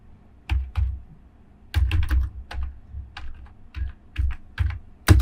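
Close, clear clatter of typing on a computer keyboard, with bursts of quick key presses separated by short pauses and no voices.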